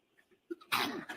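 A single sharp sneeze bursts out in a courtroom after a few faint breaths and small sounds, and a brief trailing noise follows it.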